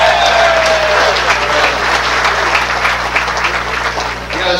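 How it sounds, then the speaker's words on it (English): Modest crowd applause at a baseball team's celebrity breakfast, a thin, scattered clapping heard throughout with a faint voice, fading slightly toward the end. "that's the weakest applause I've seen all week"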